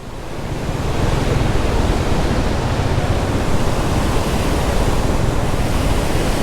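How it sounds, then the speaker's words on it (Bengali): Water rushes at high speed through four open sluice gates, a loud, unbroken roar of churning flow that fills the whole scene close by. "সেই পানি যাচ্ছে অনেক স্পিড চারটা সুইচ গেটই খোলা"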